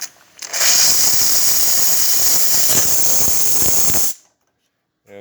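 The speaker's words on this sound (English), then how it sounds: "Let's test the steam." A Pasquini espresso machine's steam wand, just after a full tune-up, lets out a loud, steady, close hiss for about four seconds before cutting off abruptly into silence.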